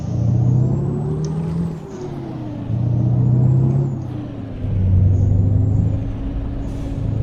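A heavy truck engine in Euro Truck Simulator 2 drones and rises in pitch through repeated gear shifts, loud and close, with a faint hiss like an air brake.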